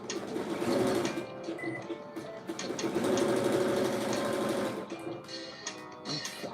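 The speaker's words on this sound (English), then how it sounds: "I'm sewing around the pocket again." A sewing machine runs steadily while stitching around the pocket of a pair of sweatpants, a close, even mechanical whir that slows and briefly eases off before starting up again.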